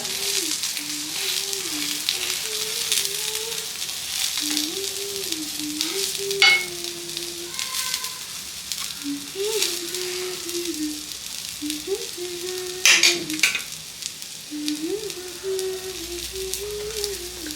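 Fish fries in a pan with a constant crackling sizzle, broken by a few louder pops and scrapes, while a voice talks intermittently over the cooking.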